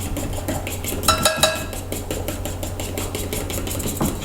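A whisk or spoon stirs egg and milk in a bowl for strawberry muffin batter, giving a steady close scraping and clinking against the bowl's sides with occasional sharper chinks.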